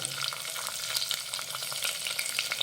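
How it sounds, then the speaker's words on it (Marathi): Chopped tomato sautéing in a pan for Maharashtrian masale bhat, a busy close sizzle with frequent stirring scrapes and small crackles throughout, no voices. "आणि हा टोमॅटो परतून घेऊयात"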